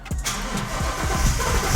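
A twin-turbo Ford Mustang running on E85 cranks with a rapid rhythmic starter churn and fires up into a loud, rough idle, close by and with no talk over it.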